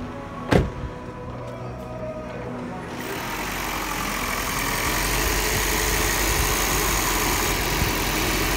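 Failing A/C compressor on a 2009 Toyota Prius trying to engage: a single sharp click near the start, a low idling hum, then a broader rough mechanical whir and rumble that swells and holds steady.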